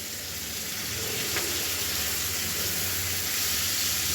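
Tomato sizzles steadily in hot oil in a pan for chicken bharta, a loud continuous close hiss that holds evenly throughout with no talk.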